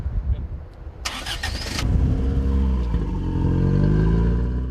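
An engine cranked and started, a brief burst of starter grinding followed by the motor catching and settling into a steady rumbling idle with rising and falling tones.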